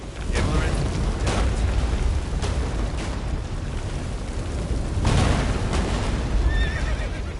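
In The Witcher 3, the horse Roach gallops during the Battle of Kaer Morhen. Loud, dense battle noise and rumbling run throughout, with surges of impact and a faint whinny near the end.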